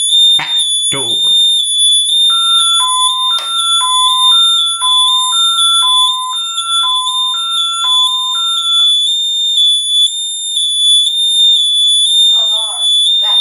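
An ADT Safewatch Pro alarm panel sounds for the back door, a piercing high steady tone over a loud two-note alternating warble repeating rapidly, with a synthetic voice announcing briefly at the start and end.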